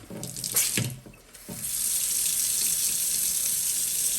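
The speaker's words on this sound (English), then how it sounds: "Turn the water back on underneath the sink or to your house, and then test out the faucet." Water runs from a kitchen sink faucet that has just been turned back on for testing. A few brief splashes and clunks come first, then a steady, close, continuous rush of flowing water.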